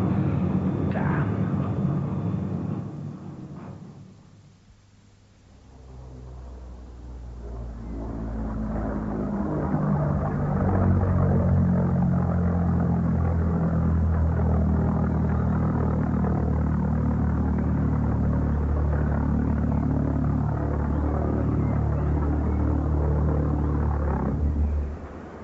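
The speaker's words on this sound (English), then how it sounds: "Plane, sir. Its engine cut out shortly after it crossed the south coast." An airplane engine in a BBC radio drama drones as a loud, low, sustained rumble. It dips briefly early on, then returns and holds steady for the rest of the clip.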